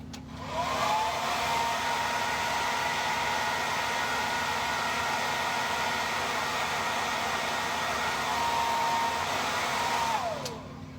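A heat tool blows hot air onto the vinyl of a Smart Doll Gen 2 during assembly. It switches on after a moment, gives a steady loud whooshing hiss for about ten seconds, then cuts off.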